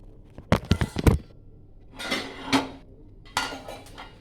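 Egg bujji is scooped off a pan onto a plate: a quick cluster of metal scrapes and clinks, then softer scraping and a couple of single clanks, close and fairly quiet.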